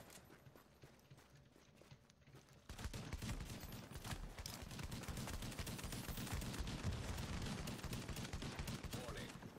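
Rapid bursts of gunfire from the video game The Division, starting faint, then a dense, sustained volley at moderate level with a short voice underneath.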